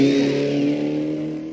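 Alpine 1300cc GT race car at the start line of the 1965 Targa Florio, its engine holding a loud, steady high-revving note that eases slightly toward the end, close by.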